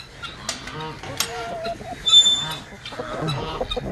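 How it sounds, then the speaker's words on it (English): Chickens clucking in a morning farmyard, scattered short clucks and chirps at close range, with a person talking softly among them and a louder burst of calls midway. "there's chickens behind me"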